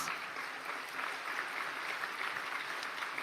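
An audience at the Houston State of the City address applauds steadily, a dense, even patter of many hands clapping at moderate volume throughout.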